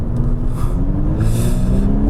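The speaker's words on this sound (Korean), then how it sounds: "엑셀레이터 페달을 밟게 되면" A Honda CR-V Hybrid with a CVT gearbox accelerates on a racing circuit, giving a steady, close engine drone that rises slowly in pitch without any gear shifts.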